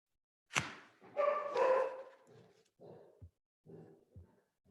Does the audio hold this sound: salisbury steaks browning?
no